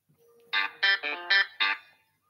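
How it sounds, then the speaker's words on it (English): Text message notification sounding as a bright melodic chime of five quick, clear tones, close and alone in a quiet room. "Oh, someone sent me a text message for something."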